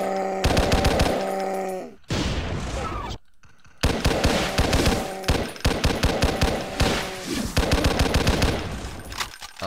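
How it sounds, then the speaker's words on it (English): Rapid rifle gunfire from DOOM II rattles in dense bursts, loud and close, with a brief pause and near-silent gap before the shots resume in repeated volleys, mixed with game effects and no talk. "I'm gonna shoot this bastard with a rifle."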